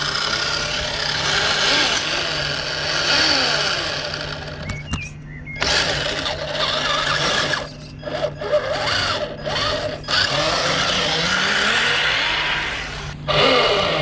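RC Toyota Hilux, an HG P417 high-lift truck, whines steadily under load in low gear, a loud buzzing electric motor that briefly cuts out and stutters before running on again.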